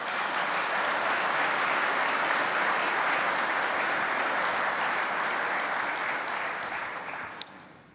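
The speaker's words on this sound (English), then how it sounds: "I'd like to give them a round of applause for all their efforts." Sustained, full applause from a crowd at a fire service expo opening ceremony, holding steady and then tapering off near the end.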